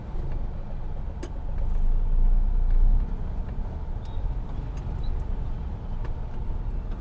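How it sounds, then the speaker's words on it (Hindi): A Maruti 800 running on an LPG kit pulls away in traffic with the air conditioning on, its engine a steady low rumble that swells briefly as it accelerates, with road noise around and no talking. "क्लच छोड़ रहा हूँ, एक्सेलरेट कर रहा हूँ, गाड़ी उठ रही है"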